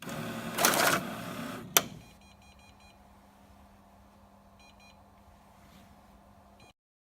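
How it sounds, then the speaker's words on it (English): A bank cash deposit machine takes in banknotes with a short burst of whirring note feed and a sharp mechanical clunk, followed by soft repeated electronic beeps over a low hum. "the machine takes the money and carries out an automatic deposit."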